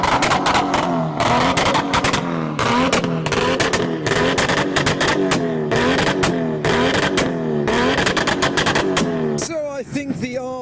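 A modified Nissan S15 with an RB engine revs hard and repeatedly at a car show, producing loud, choppy bursts of rising and falling engine tone. Crowd noise and talk sit underneath.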